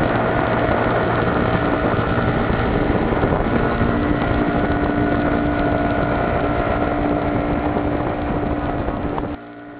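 Speedboat engine droning steadily with constant wind and water rush while crossing the sea near Ujung Pancu, loud and continuous before dropping slightly at the end.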